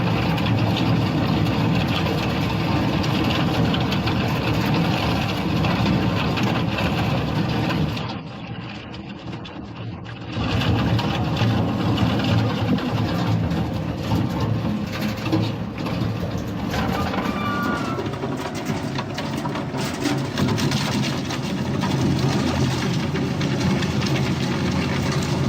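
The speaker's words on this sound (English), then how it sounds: "Feeding wastewater containers into a shredder always feels risky." An industrial shredder fed with wastewater containers runs continuously with a heavy, droning mechanical rumble and grinding, loud and close; the noise briefly dips for a couple of seconds before the full roar returns and carries on.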